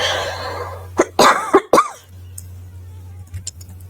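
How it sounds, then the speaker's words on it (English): A few harsh coughs in quick succession, close by, over a low steady hum, followed by quiet. "I'm coughing because of her."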